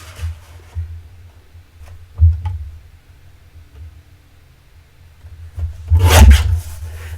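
Card stock being cut to size on a paper trimmer for Christmas cards, giving a brief rasping slide around the middle and a louder, longer scraping cut near the end, with quiet pauses in between and no talking.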